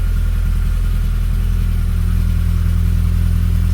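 A Mini Cooper 1.3i SPI petrol engine idles steadily nearby on a cold day, a low, even rumble with a constant pulse and no revving or voices.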